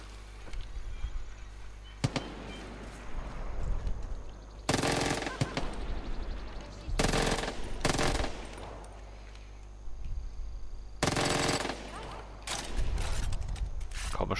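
Bursts of gunfire from a weapon in Far Cry 5, several loud rapid volleys spaced across the scene with a steady game backdrop between them.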